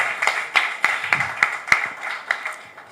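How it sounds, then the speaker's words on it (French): Applause closes an interview segment of a magazine-style show, heard as a thin, evenly spaced run of crisp individual claps, fairly close but modest in volume. "Sous vos applaudissements, s'il vous plaît."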